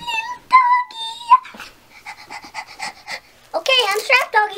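A dog pants rapidly in short breathy bursts close by, with a few whimpers, while a person speaks in a high, cooing voice before and after.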